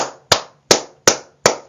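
Four sharp, close hand claps at an even, deliberate pace, each a crisp smack with a short room ring, separated by silence.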